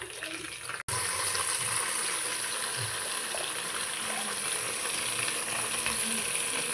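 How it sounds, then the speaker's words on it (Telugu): Onions frying in a pan for a Telugu-style dish, a steady broadband sizzle that holds level throughout after a brief dropout near the start, with no voices. "ఉల్లిపాయలు బాగా వేగినాయి."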